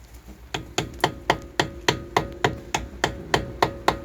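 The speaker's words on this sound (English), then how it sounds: "So I'm just going to get a hammer and actually hammer that back out." Sharp metallic hammer blows on a car wheel hub during CV boot replacement ring out at a steady pace, roughly a dozen strikes in quick succession, close up and loud.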